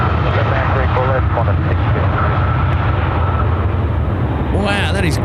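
Scoot airliner on its takeoff roll at Sydney Airport at night, a loud continuous broadband engine roar filling the whole stretch, with radio chatter and talk over it.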